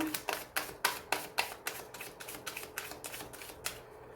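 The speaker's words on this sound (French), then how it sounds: "Alors, je vais recouvrir les cartes négatives." Tarot cards laid one by one over other cards in a quiet room. A close, soft series of crisp card slaps and flicks comes in a quick, fairly even rhythm, with no one talking.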